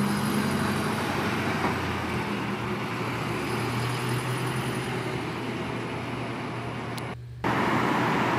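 Road traffic rumbles steadily in Kingston upon Thames, London, with a bus passing nearby among other vehicles, a continuous loud engine and tyre drone.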